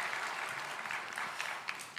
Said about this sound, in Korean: 여러분 박수로 처음 오신 분들 한번 환영하겠습니다